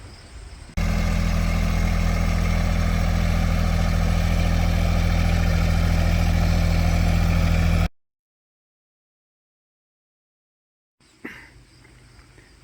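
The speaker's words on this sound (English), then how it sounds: "here's a video of the Sharon attachment working remote controlly on my tractor." A tractor engine idles loudly and steadily, with a remote-controlled attachment working on it, for about seven seconds, then cuts to silence before a brief, fainter burst of engine noise returns.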